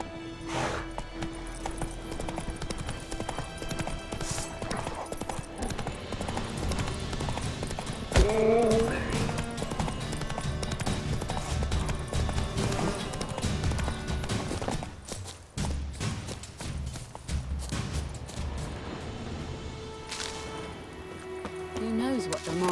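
Galloping horse hooves in The Witcher 3, a steady drumming rhythm running throughout beneath music and game sounds, with a brief spoken call to the horse.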